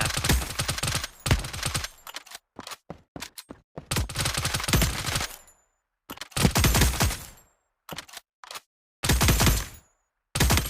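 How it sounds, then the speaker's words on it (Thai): Gunfire from shooting enemies in the video game Core Runners comes in loud, rapid automatic bursts separated by short silences, with several distinct volleys spread across the stretch. "ลองยิงและกำจัดศัตรูตรงหน้าดู"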